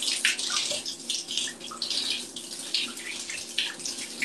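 A shower runs close by, its water rushing and splashing steadily with uneven surges, with no talking over it.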